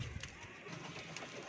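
Pigeons perched on a corner coo softly in a short, low murmur over faint background noise, with no talk.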